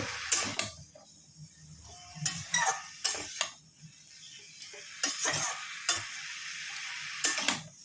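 Pumpkin greens being stirred in oil in a pan: repeated scraping strokes of a spatula with clinks against the metal over a soft, steady sizzle.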